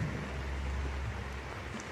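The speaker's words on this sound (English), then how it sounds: "It's raining, raining." Steady rain hisses in a dense, even wash, with a low rumble underneath and no voices, filling the short stretch at a moderate, unchanging level.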